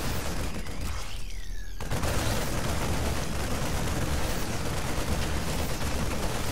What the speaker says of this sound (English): Those siege tanks are just devastating.